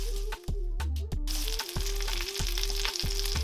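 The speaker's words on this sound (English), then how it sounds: "now the steak has been cooking for about 3 minutes" A wagyu ribeye steak cooking in a hot pan, a loud steady sizzle close by, with a regular low pulsing hum beneath it and a brief dip near the start.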